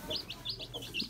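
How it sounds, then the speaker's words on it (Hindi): Hens eating and drinking at a backyard poultry setup give a run of about six soft, high chirping clucks at a steady pace, fairly faint against a low background hum. "मुर्गियाँ खाना पीना खा रही हैं।"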